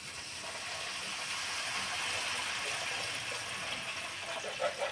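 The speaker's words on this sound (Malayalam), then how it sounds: "ആ ഇനി വെള്ളം ഒഴിക്കണം അല്ലേ?" Water pours into a cooking pot, a soft steady gushing stream, fairly faint and continuous with a slight clatter near the end.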